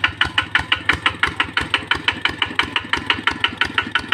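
A Kubota RT110 diesel engine with a standard injector runs while pumping water, labouring and huffing under load: a steady, close, loud chugging with regular rapid firing pulses throughout, no voices.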